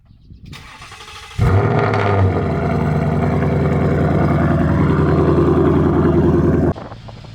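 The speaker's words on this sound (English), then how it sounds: "I know y'all heard that cold start." A 2021 Ford Mustang GT V8 with an X-pipe exhaust cranks and fires at once into a loud, deep rumbling cold-start idle, a throaty exhaust burble holding steady for several seconds before cutting off.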